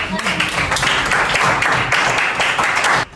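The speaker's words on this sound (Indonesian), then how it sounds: "tepuk tangan" Applause from a group in a classroom-style session, a loud, dense burst of clapping that keeps a steady pace for about three seconds, with voices mixed in, before cutting off abruptly.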